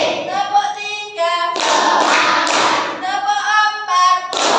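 A class claps in a steady rhythm, bursts of loud hand claps alternating with a teacher's counting voice and children chanting, close and lively in a classroom.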